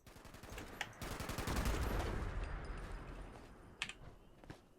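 Rapid bursts of gunfire in Fallout 76 crackle loudly in a dense automatic volley, then thin out into a few scattered sharp shots as the rumble fades.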